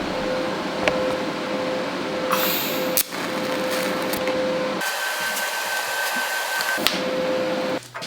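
Steel tube for a cargo bike steering stem is being welded, a steady crackling hiss with a thin whining tone, sharp clicks and abrupt stops and restarts, close and moderately loud.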